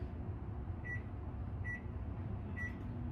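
A microwave oven hums steadily at low volume while three short, evenly spaced beeps sound in sequence.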